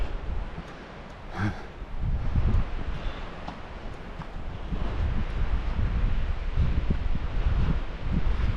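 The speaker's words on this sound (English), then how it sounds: "Wind is also starting to pick up just a little bit." Wind gusts across a mountain hiking trail, producing a steady broad rush with low buffeting against the microphone that builds slightly and holds.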